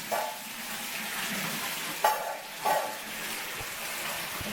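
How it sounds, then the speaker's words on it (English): A faucet runs in a steady, strong rush of water, with a couple of brief clunks partway through; no one speaks. "And you can hear that the water pressure is very good."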